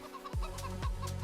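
Chickens cluck in a farm yard in the Farming Simulator 25 game, with a few close, distinct clucks and soft fowl chatter over a faint ambient bed.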